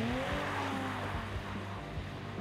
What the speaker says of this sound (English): gun for the longest drift record on a frozen lake